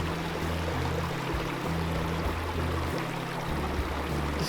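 Mountain stream in the Pecos Wilderness flowing steadily on the Santa Barbara Divide loop, a constant rushing and gurgling wash of water, fairly close and even in level, with low rumbling undertones and no voices.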